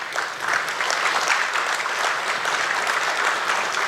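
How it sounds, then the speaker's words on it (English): An audience at an African sovereign investment forum hosted by NSIA gives a sustained round of applause, dense steady clapping filling the room for several seconds. "A round of applause for him."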